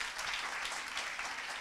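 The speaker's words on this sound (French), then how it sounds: "applaudissements pour Camille" Audience applause at a French-language fundraising seminar, a steady wash of clapping from a crowd filling the whole moment at even loudness with no talk over it.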